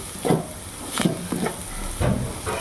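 A vegetable stuffing for wheat flour puffs is sautéed and stirred in a pan, with a steady background sizzle and several louder scraping stir strokes close by.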